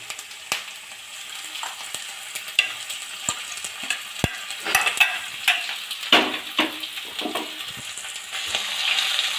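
Finely chopped ginger and garlic stir-fried over a high flame for an Indo-Chinese dragon chicken, with a continuous close sizzle broken by repeated scraping and tossing strokes of the spatula, no talk.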